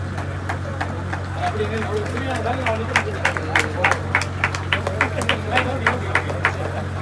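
Audience applause at an award ceremony in Jaffna, a steady patter of many hands clapping that grows denser and louder over a constant hall hum, with a voice on the microphone over it.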